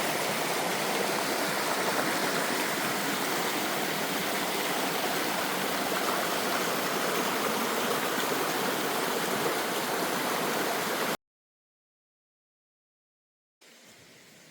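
A stream on the Appalachian Trail pours steadily into a small pool, a loud, continuous rushing wash of water that runs unbroken for about eleven seconds, cuts out abruptly, then resumes faintly.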